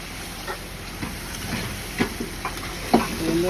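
Hilsa fish heads being sautéed with taro leaves in a pan, giving a steady low sizzle broken by a few scraping stir strokes, close and moderately quiet with no talking.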